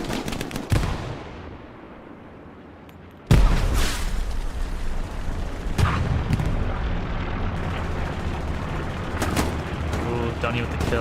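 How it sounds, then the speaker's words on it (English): Grenade explosions in the World War II shooter Hell Let Loose, a sudden loud blast after a quieter stretch followed by further booms and gunfire, with a person talking over the battle. "Oh, Joe chucking grenades."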